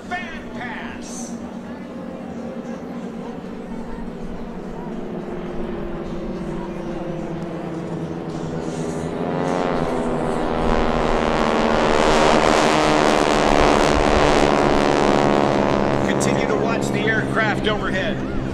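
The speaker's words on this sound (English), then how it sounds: "Aircraft overhead as they rejoin and then reverse to give you one more exciting photo opportunity across Show Center" Skytypers aircraft fly a fan-pass formation overhead at the 2012 Jones Beach Airshow, their engine drone swelling from distant to loud and close, then holding. A voice speaks faintly under the early part.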